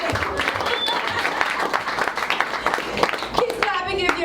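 Audience at a comedy and wellness event claps steadily, a rippling mass of hands under an amplified host talking, with a few louder individual claps standing out toward the end.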